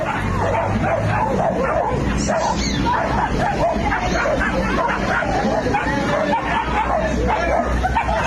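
A pack of stray dogs barks and yips loudly and continuously, with overlapping barks, whimpers and snarls close by amid a noisy street scene.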